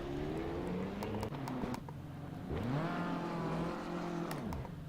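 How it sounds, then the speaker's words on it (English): A Bentley GT3 race car engine in Assetto Corsa Competizione at Kyalami revs and shifts through gears at moderate distance, pitch sweeping up and down as it accelerates, with game-like engine tones. "Didn't I hear a car down there?"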